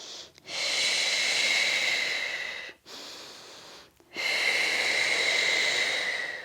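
Deep, loud breaths during a Pilates exercise: a long, airy inhale, a shorter breath, then another long, steady exhale, each a close, hissing rush of air with brief pauses between.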